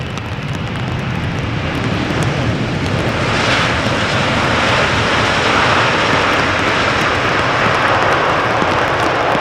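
A Boeing 777-300 airliner arriving at Schiphol airport on a flight from Vancouver, with a loud, close, steady jet roar that fills the whole stretch without letting up.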